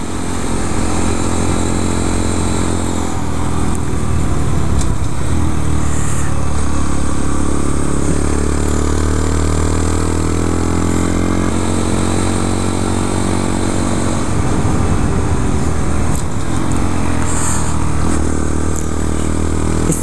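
A 2014 Honda Grom motorcycle being ridden hard, its small engine droning loud and close throughout with the pitch rising and falling through throttle changes and gear shifts, no voices.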